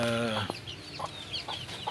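A mother hen gives a drawn-out cluck followed by several short, soft clucks and faint peeps from her chicks, close by.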